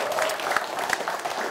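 Studio audience clapping at a television show, dense and continuous for a short burst, fairly loud and close.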